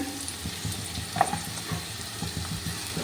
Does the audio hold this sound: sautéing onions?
yes